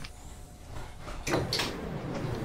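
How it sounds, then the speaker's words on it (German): Electric sliding doors of a DB class 423 S-Bahn train in Train Sim World 2020 open with a short pneumatic hiss and a brief whoosh partway through, over a steady low cabin hum. "Öffnen die Türen."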